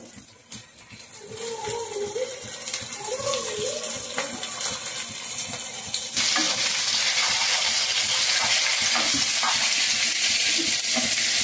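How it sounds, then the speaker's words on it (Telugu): Washed beef liver drops into a hot pan and starts frying, with scraping stirs and a wet sizzle that jumps to a loud, steady hiss halfway through. "ఇది వేగుతూ ఉంటుండగా నేనైతే లివర్ అయితే కడిగి పెట్టాను కదా వేస్తున్నాను ఇందులో"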